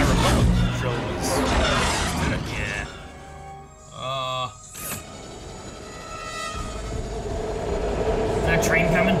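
A train approaching in a Star Wars TV episode, a rumbling rail sound with a brief tonal horn-like burst midway, heard under people talking over the show.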